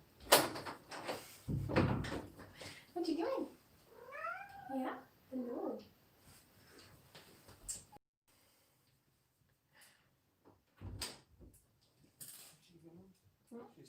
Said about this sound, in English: we got a kitty at the door